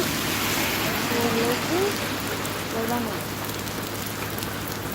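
A heavy village downpour makes a constant loud wash of rain on surfaces, with faint voices briefly audible beneath the steady roar.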